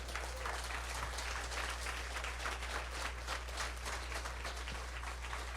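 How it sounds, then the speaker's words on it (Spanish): Congregation clapping during a Sunday church service, a quiet, continuous patter of many hands heard from a distance, fairly even and sustained with a low hum underneath. "Da un aplauso al Señor si tú eres libre."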